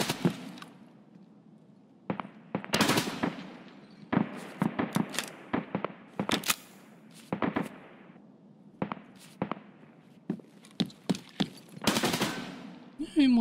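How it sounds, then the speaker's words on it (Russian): Gunfire in Escape from Tarkov, with scattered sharp shots and short bursts at varying distances, some loud and close, others fainter, spread irregularly across the span with no talk. "Кто там стреляет?"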